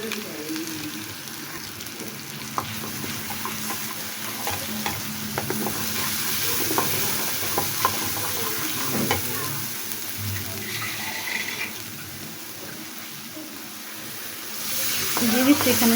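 Roast masala spices fry in a pan while a spoon keeps stirring, giving a continuous sizzle with scraping strokes and a louder rush of sizzling at the end.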